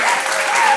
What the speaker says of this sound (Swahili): tumpigie Bwana Yesu makofi